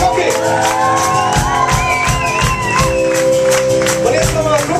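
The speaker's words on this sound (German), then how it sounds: "er hat, glaube ich, den größten Applaus verdient" A live concert crowd at an album presentation cheers, shouts and whoops loudly for the producer, a dense continuous roar of voices close around with scattered applause underneath.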